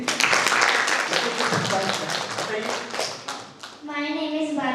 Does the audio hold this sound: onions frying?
no